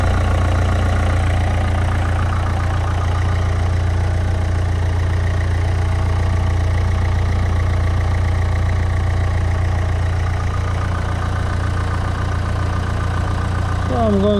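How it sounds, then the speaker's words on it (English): A Nissan Note 1.5 dCi diesel engine idles while warming up after an oil cooler replacement, a steady, loud low rumble that holds evenly throughout with no talk. "So I'm going to let the engine to warm up"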